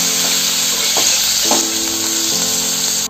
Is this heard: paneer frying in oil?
yes